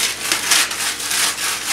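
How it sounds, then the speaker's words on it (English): Stiffened fabric being pulled free from a sheet of tinfoil, a steady broadband crinkling rasp with swelling scrapes throughout, close and fairly loud, no talking. "all I have to do is pull it off my tinfoil."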